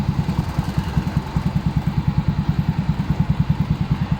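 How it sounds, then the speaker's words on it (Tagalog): A Yamaha Mio 125 scooter engine runs at a low, lumpy idle, throbbing in a fast, even pulse, close up and steady, with no talk. "Medyo pinapanda ko lang konti kasi may na battery ng motor na to."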